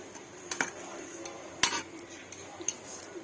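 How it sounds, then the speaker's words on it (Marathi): Tamarind paste is worked through a sieve to strain out fibres and seeds, giving soft scraping with a few sharp metallic clinks of a spoon against the mesh, close by and fairly quiet. "बारीक असं पेस्ट करून घेतली आहे तर आपण हे चाळणीमध्ये गाळून देणार आहोत"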